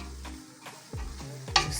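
Carrots for fried rice get stirred in a hot pan, with a handful of distinct scraping strokes of the utensil over a low sizzle, close and brief.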